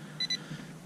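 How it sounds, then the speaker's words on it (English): A metal detector over a freshly dug hole gives two quick high electronic beeps in succession, close and clear above faint background hiss. "ran my detector over it again and it gave me another signal"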